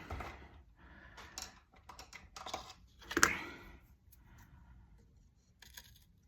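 A blade cuts veneer off a wobbly skirting board, giving close, scratchy scraping strokes in short bursts with one sharper, louder slice partway through and quieter scratching after it.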